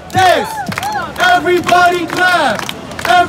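A live audience at A Night in Waikiki screams and yells in loud, repeated surges of several seconds each, rising and falling in waves.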